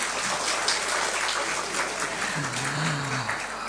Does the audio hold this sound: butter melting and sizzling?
no